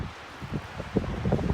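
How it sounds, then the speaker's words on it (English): Gusty wind buffets the microphone on a mountain trail above Lake Tahoe, low rumbling bursts building and growing louder toward the end, with no voices. "So windy today."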